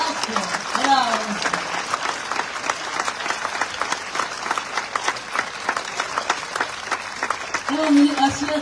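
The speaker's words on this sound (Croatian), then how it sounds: "Molim vas, jedan aplauz" An audience at a concert applauds with dense, sustained clapping that fills the room, with a voice speaking faintly over it.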